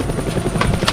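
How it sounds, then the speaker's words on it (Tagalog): Helicopters flying close by, a loud, steady rotor chop and engine drone that fills the whole second with no break. "Mga helikopter ka."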